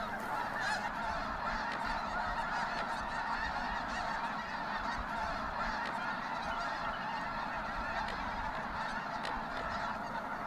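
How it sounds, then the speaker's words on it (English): A dense, continuous chorus of many snow geese honking together at a wildlife refuge, steady and loud throughout with no pauses. "There's a lot of snow geese here right now"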